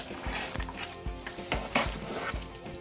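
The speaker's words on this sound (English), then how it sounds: "so I'll stir it" A spoon stirs turkey stew seasoned with ground pepper in a pot, with rhythmic, close scraping strokes roughly every half second over a soft sizzle, no talking.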